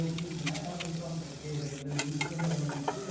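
Onions sauté in a pan for egg kothu chapati, a soft sizzle with repeated light scraping and tapping of a spoon as it stirs.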